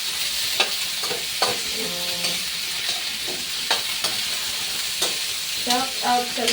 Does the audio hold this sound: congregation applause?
no